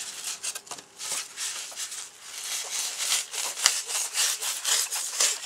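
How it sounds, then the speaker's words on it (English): Surform rasp shaving down a carved bass taxidermy form, a steady run of dry scraping strokes in quick irregular rhythm, close and alone with no talk. "or keep working on it with your surf form, or a rasp file, a heavy duty file, rasp"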